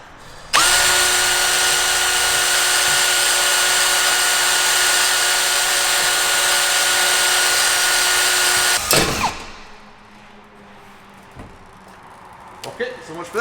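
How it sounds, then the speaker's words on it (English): A power drill with a worn-out bit whines loudly and steadily as it bores into a diesel Mercedes car exhaust, running for about eight seconds before stopping abruptly, followed by faint clatter and handling noises. "a couple of worn out drill bits and broken drill bits"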